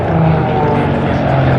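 A Sea Harrier jet flying at the Duxford summer air show, a loud, steady roaring drone that fills the whole moment, with a commentator's voice talking over it.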